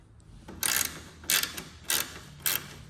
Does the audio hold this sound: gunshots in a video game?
no